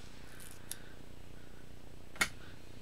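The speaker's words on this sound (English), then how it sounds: "I'll just grab my scissors." A single sharp snip of scissors cutting foam tape, close and crisp, after a faint earlier snip, in an otherwise quiet room.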